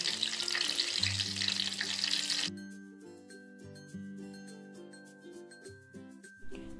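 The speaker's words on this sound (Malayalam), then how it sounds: "മാവിൽ മുക്കിയിട്ട് പൊരിച്ചെടുക്കുക" Apple bajji dipped in batter crackle and sizzle steadily in hot oil for a couple of seconds, then the frying drops away under gentle music.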